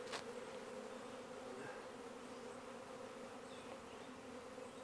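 A honeybee swarm buzzes around a hive, a steady close hum with a sharp click at the start, the droning holding level and faint throughout.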